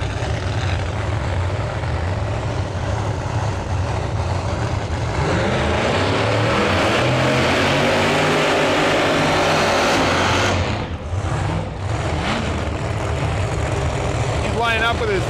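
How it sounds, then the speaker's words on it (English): An LDR 2002 Camaro drag car with a big screw blower through the hood, roaring loud and continuous with a high mechanical whine and rising revs, overwhelming everything around it. "This is an LDR 2002 Camaro with a big screw blower sticking out the hood."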